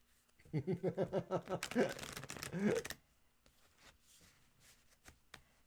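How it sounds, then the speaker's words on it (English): A rapid ruffling riffle of tarot cards, then a longer flurry of shuffling the deck, close up, followed by a few light taps and quiet rustles. "We'll let them shuffle your deck, Mr. O."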